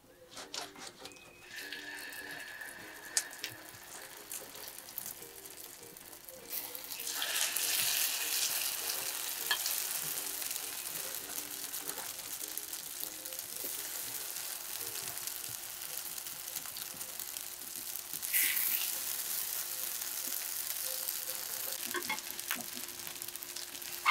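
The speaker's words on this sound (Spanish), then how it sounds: "Ahí sí voy a poner la tortillita a freír." A broccoli tortilla fries in a pan, giving a steady soft sizzle that swells louder partway through and then holds, with faint clinks and no talking.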